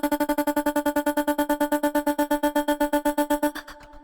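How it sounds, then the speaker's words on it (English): A stutter house vocal effect: a sustained sung vowel chopped into fast, even pulses of about eight per second, loud and steady throughout, then released into a short fading tail at the end with no talking. "I'm going to show you the fastest way you can get this stutter house vocal effect without touching a single LFO tool"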